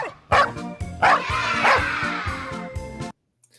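Several dogs bark and yip excitedly inside a car, loud close bursts in quick succession with a few whimpers, ending abruptly in near silence.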